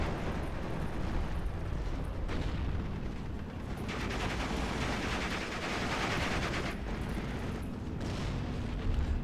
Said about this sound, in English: Another rocket strike coming in.